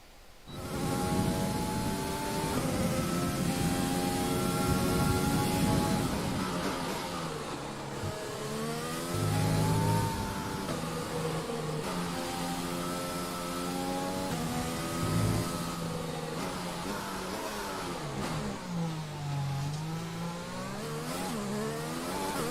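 Loud, continuous engine of a Formula 1 car in the racing video game F1 2020, high-pitched and rising and falling through repeated gear shifts during a qualifying lap, with no talk over it.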